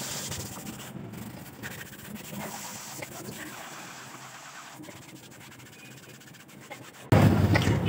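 A brush scrubs an old canvas while it is being washed, giving a steady, soft rubbing scratch at close range that continues throughout and ends with a brief louder knock.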